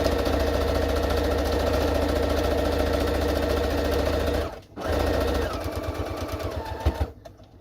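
A sewing machine stitches down the side of a fabric advent calendar, its motor humming steadily and close, then stopping briefly near the middle before starting up again and running on.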